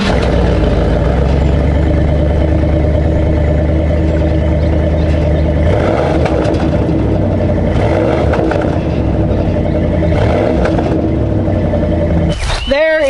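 A 1987 Dodge W150 truck engine runs and idles with a steady, loud mid-pitched rumble throughout, shifting slightly in tone partway through, with a brief knock near the end.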